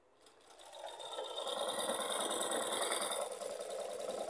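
A sewing machine stitching new cloth runs steadily after a brief start-up, a continuous mechanical whir with a fine rattle at close range and no talk.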